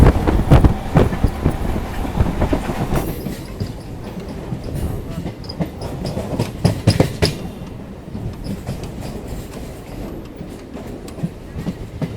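A local train running from Barddhaman to Katwa rattles and rumbles continuously from inside the coach, with rhythmic clickety-clack knocks from the wheels. The sound is louder at first, then settles to a steady ride.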